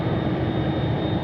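An Airbus A330 roars past at Sydney Airport at night, a loud, steady broadband jet engine rumble with a faint high whine, continuous and close throughout with no voices.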